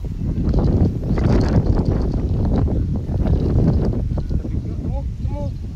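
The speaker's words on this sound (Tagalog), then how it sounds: "Kasi lakas ng hangin." Strong monsoon wind buffets the microphone in loud, rumbling gusts that swell and ebb continuously, with a voice speaking over the roar.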